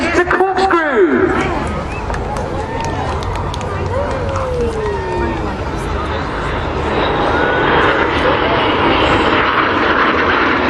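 Red Arrows jets performing at the Sunderland International Airshow 2014, a continuous loud jet roar that swells and shifts over a murmuring crowd of spectators.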